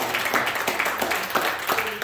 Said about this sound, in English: Give the Lord a hand clap of praise for that